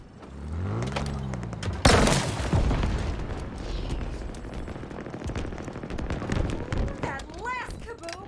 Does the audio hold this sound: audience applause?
no